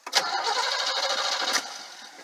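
A 1960 Cadillac V8 in a rat rod cranks briefly and catches, then runs with a steady, fairly loud rumble up close for about two seconds before easing off slightly.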